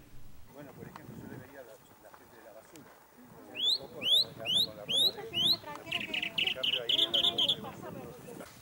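Birds sing in the hills of Córdoba's Punilla Valley near the San Jerónimo dam, a run of repeated rising whistled notes followed by quicker chirping phrases, fairly close over soft outdoor background.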